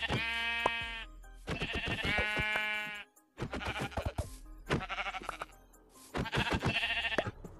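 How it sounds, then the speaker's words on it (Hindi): Goats bleat in the Minecraft Pocket Edition video game, a series of loud, close, wavering cries in several bursts separated by short gaps, with no talking. "तो मैं बकरियों को मारता हूँ।"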